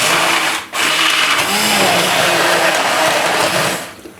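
A blender grinds boiled tomato and beetroot for soup with a loud, whirring motor drone. It cuts out briefly near the start, then runs steadily before winding down.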